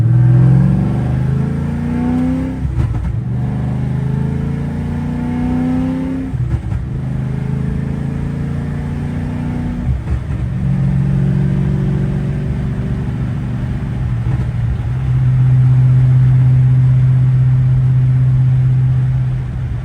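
A Chevrolet S10 pickup accelerates on a test drive after driveline adjustments. The engine drone is loud and close, and its pitch climbs through several gear changes before settling into a steady cruising hum, with no talking.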